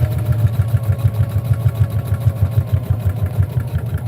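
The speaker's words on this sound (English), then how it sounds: "I'm going to sew all the way" A sewing machine stitches a scrap-fabric potholder with a loud, close motor hum and fast, even needle pulses that run steadily throughout.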